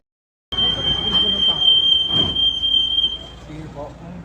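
An LRT 1 light rail train rides along with a loud, steady high-pitched wheel squeal that holds for several seconds over a rumbling, rattling car interior, with faint voices in the background.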